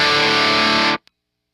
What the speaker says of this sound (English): that'll be the distortion of my amplifier